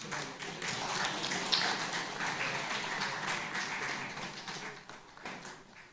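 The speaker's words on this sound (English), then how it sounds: "Can we have a round of applause, please?" An audience claps at the 1st ISUBE SSEA Chapter conference and 2nd UBECON in Nepal, with dense, even applause of many hands that holds steady and then thins slightly toward the end.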